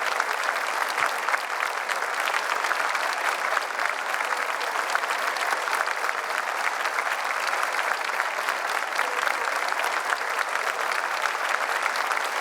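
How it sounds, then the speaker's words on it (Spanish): A church congregation applauds continuously for about twelve seconds, a dense, steady clapping wash from a sizable crowd at an even level throughout. "Los aplausos para el Señor."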